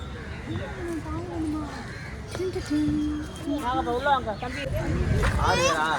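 Crows caw at the Aliyar Dam park, harsh calls heard among people talking nearby in an outdoor crowd.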